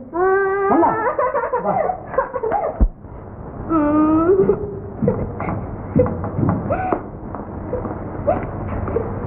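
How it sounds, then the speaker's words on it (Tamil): A child cries in a dramatic film scene, with drawn-out, tearful wails rising and falling in several bursts over about nine seconds. The crying is loud and near, over a faint background rumble. "குழந்தை ஏன் அழுவுது?"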